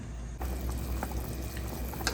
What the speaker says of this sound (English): You're gonna boil this on medium-high heat until all the chicken is cooked.